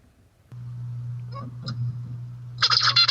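Short bursts of high, buzzy zebra finch song arrive near the end, after a steady low hum and a few faint chirps.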